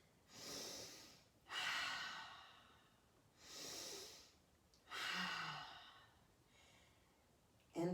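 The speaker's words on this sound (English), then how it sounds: "just take a couple of deep breaths in" Slow deep breaths drawn in through the nose and let out during a standing yoga warm-up, four long airy breaths in an even rhythm, close and fairly loud, with no talk.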